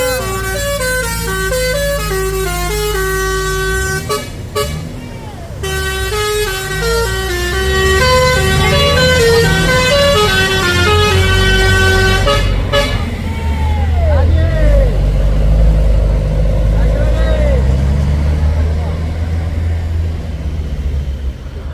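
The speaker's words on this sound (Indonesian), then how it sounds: "Putra telolet, telolet. Oke, telolet." Loud melodic telolet truck horns play repeated tuneful toots over rumbling engines on the Bukit Kodok hill, with Fuso tanker trucks passing, a passing siren-like wail and traffic noise throughout.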